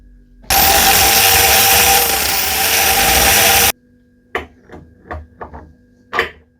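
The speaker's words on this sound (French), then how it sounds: "juste passer un petit coup de perceuse dans le trou et virer le méplat" Electric drill boring out the hole in a car shock absorber, a loud, steady whine for about three seconds that then stops. A few sharp metallic knocks and clanks follow.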